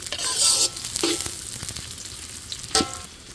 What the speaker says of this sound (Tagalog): Nagpainit na ako ng mantika at gigisahin muna ang bawang, sangkotsahin hanggang sa bumango at isunod natin ang sibuyas